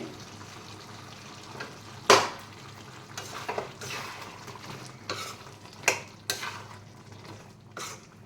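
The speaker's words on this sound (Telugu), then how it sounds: "ఇప్పుడు ముందుగా మనం తయారుపరుచుకున్న మసాలా పేస్ట్ వేసి బాగా ఫ్రై చేసుకుందామండి" Chicken pieces being fried and stirred with masala paste in a pan for a home-style curry, with soft scraping and a few sharp clinks of the utensil against the pan over a low background.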